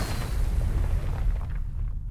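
A rocket explosion from an action movie trailer: a loud, deep, rumbling boom that fills about two seconds and fades out at the end, with no talking over it.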